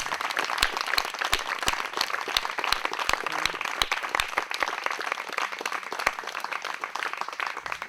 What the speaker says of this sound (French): vous pouvez applaudir Antoine qui a fait le son, s'il vous plaît,